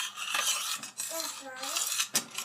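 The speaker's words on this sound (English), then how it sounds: "So I'm just going to stir this" A utensil scrapes and clinks against a pot while stirring macaroni and cheese sauce, with several quiet, close strokes and light knocks and no talking.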